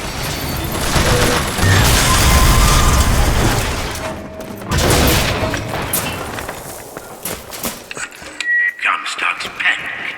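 Turret gunfire in Bioshock Infinite, with loud sustained bursts of rapid shots and booms that stop and restart, mixed with mechanical clatter, while people talk over the fighting.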